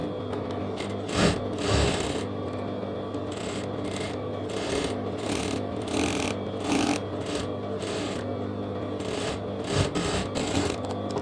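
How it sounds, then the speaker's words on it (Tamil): Domestic sewing machine running in bursts while stitching around the lining edge of a back-open lehenga blouse, a steady mechanical whir with short pauses and fabric handling, close and moderately loud with no talking. "லைனிங் ஓரத்தில் சுற்றி ஊசியோட ஒரு தையல் அடிக்கிறேன்."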